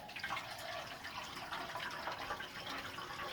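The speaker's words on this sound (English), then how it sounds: "I'm just going to leave some water in it." Water running steadily into the fuel tank of a ZK Ford Fairlane, a continuous splashing trickle close by with no talk.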